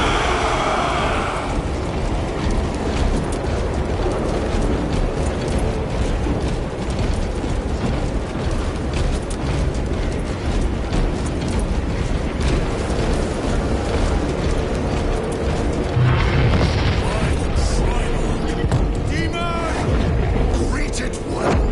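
Artillery barrages and explosions roar through a Warhammer battle, a dense, loud, continuous rumble with heavier blasts near the end and voices shouting orders over the din.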